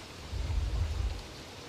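Rain falling in the video game Don't Starve Together, a short steady wash of noise with a low rumble swelling through the middle of the burst, sounding like a storm rolling in.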